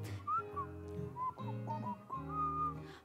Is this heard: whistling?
yes